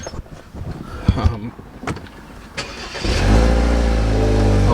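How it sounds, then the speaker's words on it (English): A BMW F30 car starts up after a few seconds of rustling and clicks, its engine catching and settling into a steady, close idle. "I don't know why I started the car"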